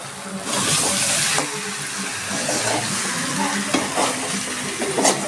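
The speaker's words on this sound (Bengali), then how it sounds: "মশলা আলু কড়াইতে লেগে যাচ্ছে তার মানে মশলাটা আমার সুন্দর করে কষানো হয়ে গেছে" Spiced potatoes are stir-fried in mustard oil in a kadai, giving close, continuous sizzling with repeated scraping strokes of a spoon against the pan.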